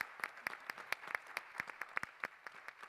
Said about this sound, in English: Let us give a big round of applause to the panelists.